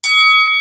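A notification bell sound effect strikes once, a loud, bright metallic ding that rings out and slowly fades over a fraction of a second, with no voices.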